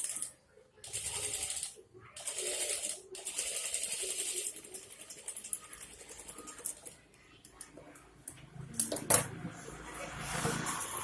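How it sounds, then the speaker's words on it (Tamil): A sewing machine stitching along blouse lining runs in short close bursts with brief pauses, a whirring mechanical rattle that turns choppier toward the end, with no talking. "அதுக்காக லைனிங் மேலே ஒரு ஸ்டிச் ஒன்று போடுறோம்."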